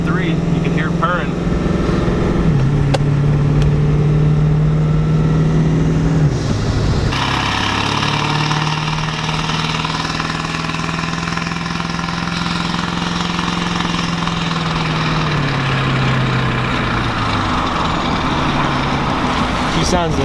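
A 7.3 Powerstroke diesel truck engine with a straight pipe rumbles loud and close, its deep idle shifting pitch as it revs slightly, with voices talking over it.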